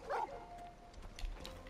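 A dog in the Final Fantasy XVI video game gives a short yip at the start, followed by faint soft whimpering under a quiet game background.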